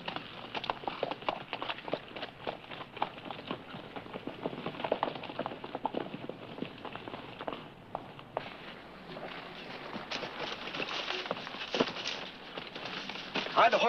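Horses walking along a rocky trail, their hooves clip-clopping in an uneven, continuous rhythm at close range with light crackling underfoot and a few faint voices.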